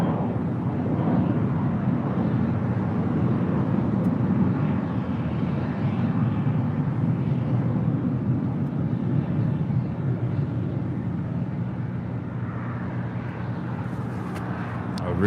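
Delta Airlines Airbus A319 on flight 1043 from San Antonio, Texas, at LAX, giving a loud, steady jet roar that holds unbroken from start to finish.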